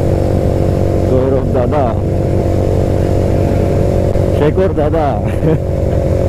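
Group of motorcycles, including a Harley-Davidson and a BMW, cruising on a highway with loud continuous engine drone and wind roar, while a rider calls out over it.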